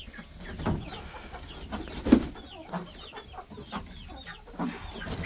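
Hens in a chicken coop cluck and murmur continuously at close range, with one louder squawk in the middle and no talking.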